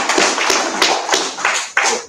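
Applause from a small gathering at a sobriety meeting celebration, a steady patter of hand claps with recurring sharper accents, close and fairly loud, no talking.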